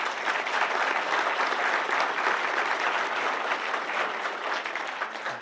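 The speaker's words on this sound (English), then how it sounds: "I think everyone should just get a round of applause if you don't mind" An audience at an AI awards ceremony claps in sustained, dense applause that stays fairly even and then begins to ease toward the end.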